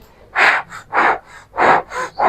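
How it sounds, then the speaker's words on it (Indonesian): A woman demonstrates the blowing breath technique used during childbirth, giving six close, loud breath bursts in a steady rhythm, alternating strong and slightly softer exhalations with brief pauses between them. "tarik napas buang napasnya itu seperti ini"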